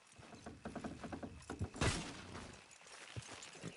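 Horses' hooves clip-clopping in the video game Red Dead Redemption 2, a run of quick, fairly close hoof knocks that breaks into a louder scuffle, then sparse single steps trailing off.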